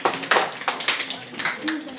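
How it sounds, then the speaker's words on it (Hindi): Crowd clapping for children in quick bursts, moderately loud, with a voice talking over it. "बच्चों के लिए जोरदार तालियां भाई"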